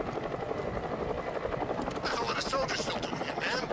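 Helicopter rotor thrum from a video game played on a PS5 controller, a steady whirring drone running throughout with a brighter rush near the end.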